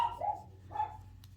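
Pet dogs bark at home in a couple of short, mid-pitched barks, somewhat distant and off to the side.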